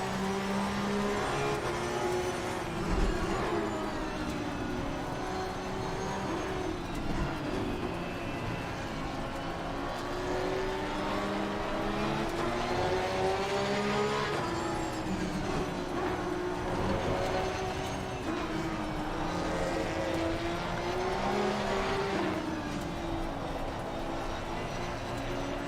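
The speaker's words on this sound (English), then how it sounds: "The sound of the car off the wall is nice." A racing car engine in Assetto Corsa Competizione, droning and revving continuously with rising and falling pitch, steady and fairly loud throughout.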